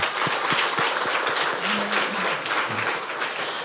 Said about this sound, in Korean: 마지막으로 한번 격려와 축복의 박수 한번 하겠습니다